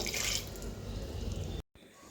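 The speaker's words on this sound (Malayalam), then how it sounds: "വേവാൻ ആവശ്യമായിട്ടുള്ള വെള്ളം ഒഴിച്ചു കൊടുക്കുക" Water pours into a pressure cooker of yam and chana dal in a home kitchen, a steady broadband splashing rush that fills most of the moment, then breaks off briefly before resuming more faintly.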